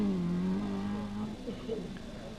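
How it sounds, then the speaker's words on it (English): A Chevette rally car driven hard on the final stage of the 1983 Cork rally, its engine note swooping and revving loudly nearby before easing off as the car is thrown through the stage. "On the very last stage, Austin McHale throws the Chevette around"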